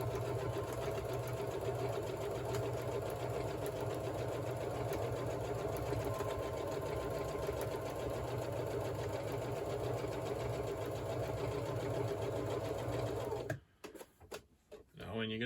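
A sewing machine stitching an armoured hoodie runs steadily at a constant whirring hum for about thirteen seconds, then stops and gives a few short bursts.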